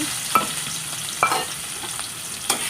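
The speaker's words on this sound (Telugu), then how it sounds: "ఇప్పుడు టమాటా ముక్కలు ఉన్నాయి కదా వేసేస్తాను" Tomato pieces hit hot oil and fry with a steady sizzle, a few sharp stirring scrapes of the spoon against the pan rising above it at intervals, with no talking.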